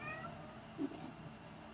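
A single short cat meow near the middle, fairly quiet and close, over steady room hum, with no talking.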